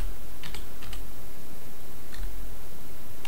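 Short bursts of keystrokes on a computer keyboard as a command is entered while flashing Android 5.0 Lollipop, several quick clusters of clicks close by over low background hiss, no talking.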